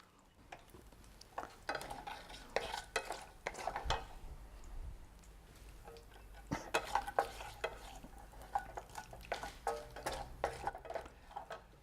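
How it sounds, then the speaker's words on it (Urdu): Green cardamom and mustard seeds frying in oil and ghee, scattered close clicks and scrapes of a spoon against the pan over a quiet sizzle, with irregular taps throughout. "ہم ان مسالوں کو تب تک فرائی کریں گے آئل اور گھی میں جب تک یہ کریکل نہیں ہو جاتے"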